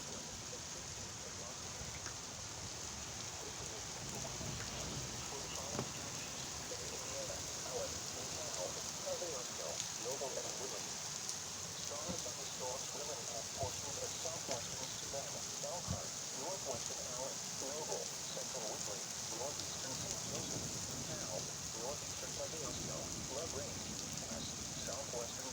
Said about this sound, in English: All right, folks, here comes the rain.